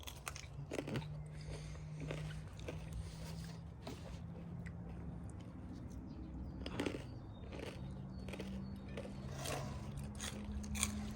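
Crispy Thai pork rind (khaep mu) is chewed up close during an Isan-style meal of sticky rice and fried beef, giving repeated crunchy bites and crackles over a steady low hum, with no talking.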